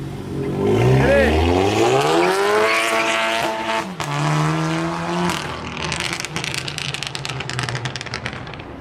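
Turbocharged cars pulling out hard from a night car meet in Illinois, engines revving and rising in pitch with some tire noise, loud and close, while people shout and cheer over them.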